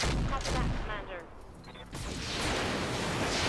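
Gunfire in the tactical shooter game Roguepoint: a flurry of sharp shots fades into quieter rattling, then another rising volley, with a voice talking over parts of it.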